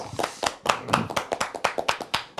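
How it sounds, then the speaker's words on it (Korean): A small group clapping at a Korean election campaign event introducing parliamentary candidates: about a dozen sharp, close claps in a quick, slightly uneven rhythm, with no talk over them. "박수 짝짝짝"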